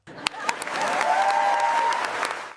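Dense burst of crowd applause as a sound effect, steady and loud for a couple of seconds with a few sharper claps at the start, a faint tone running beneath and fading out at the end.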